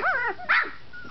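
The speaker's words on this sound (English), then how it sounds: "I love how they just sit in the corner and bark at the wall." Two quick high-pitched yaps from a 20-day-old puppy, close and loud, followed by a fainter whine.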